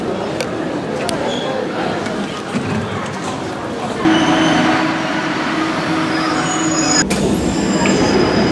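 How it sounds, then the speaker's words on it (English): A Shanghai subway train rumbles steadily up close, its wheels squealing and clattering, while voices murmur in the background. "I want to jump on the subway first because I need to go to my first location."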